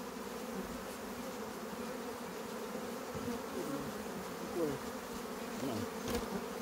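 Honey bees swarm around the hives during a beekeeping honey harvest in Jamaica, making a dense, continuous buzzing drone close by, with individual bees flitting past.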